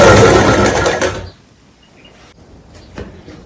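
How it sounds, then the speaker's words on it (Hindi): A sewing machine stitches saree fabric in a quick whirring burst lasting about a second, then stops, leaving faint handling sounds. "इस तरह से नीचे की ओर से सिलाई को लगाएंगे।"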